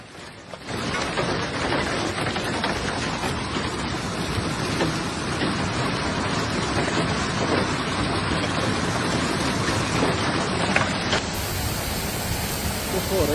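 A heavy downpour flooding city streets during a powerful storm, steady dense rain noise filling the whole stretch, loud and constant with a low rumble beneath.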